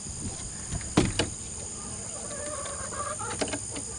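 Chickens clucking excitedly inside their coop on a rainy evening, a busy cluster of close clucks and squawks with a sharp burst near the start and scattered calls after, over a steady background hiss.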